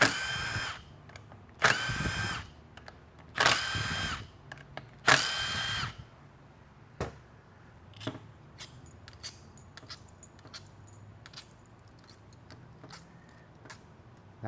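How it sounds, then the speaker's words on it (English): A brand-new impact wrench fires four loud bursts driving transmission bolts on a torn-down 6L90E gearbox. Scattered clicks and small metallic taps follow on the bench. "This impact's so new, the anvil clip is really tight still."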